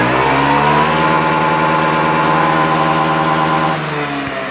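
A Honda Beat ESP scooter engine with a stuttering, misfiring fault is held at full throttle, loud and close, with a steady high revving drone whose pitch wavers slightly, then eases off near the end.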